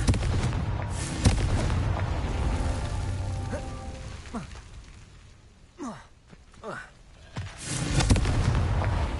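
A Confringo fire spell explodes in the Hogwarts Legacy video game, a loud rumbling blast that decays slowly, followed by softer whooshes and quieter game effects.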